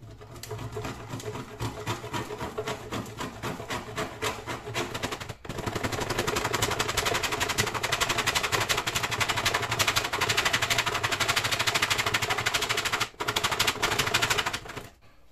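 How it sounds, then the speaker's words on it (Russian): A bar of tar soap is grated on a kitchen grater in fast, steady rasping strokes, close and continuous, with two short pauses. "Теперь берем кусок мыла и измельчаем его на тарке."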